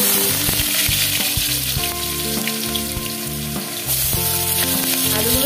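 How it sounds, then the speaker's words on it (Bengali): Potatoes fry in hot mustard oil in a wok with a loud, dense, continuous sizzle and crackle, along with the scrape of stirring up close and no speech. "আচ্ছা, তেলটা গরম হয়ে গিয়েছে, আমি এবার আলুগুলো দিয়ে দেবো প্রথমেই।"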